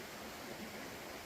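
A steady, dense rush of falling water from a waterfall in Scotland, loud and continuous with no breaks and no voices.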